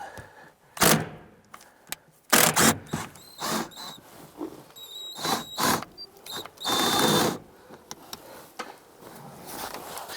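A 10mm socket wrench with an extension works a bolt loose on a 2006-2012 Honda Civic during fuel pump work, giving irregular ratcheting clicks, clunks and metal taps at close range.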